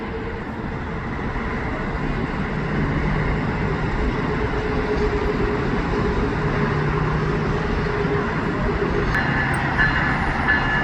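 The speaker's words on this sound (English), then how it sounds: "So that same Siemens train stopped here." A Siemens passenger train on the line at Montreal West gives a steady, loud rumble that runs unbroken for the whole stretch, with no voices over it.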